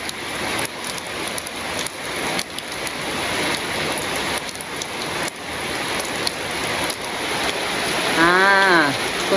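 Heavy monsoon rain pours down in a Bangladeshi village during the rainy season, a dense, continuous hiss of drops on surfaces that grows slightly louder toward the end.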